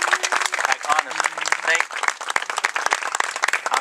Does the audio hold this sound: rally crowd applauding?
yes